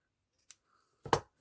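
Scissors trim ribbon for a hair bow with a faint snip followed by a sharper, louder cut, both short and close in an otherwise quiet space.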